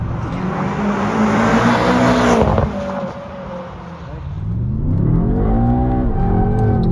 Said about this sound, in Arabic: الا سمعتوا السويت ديال الطوموبيل كيتسمع من الحسن من برا.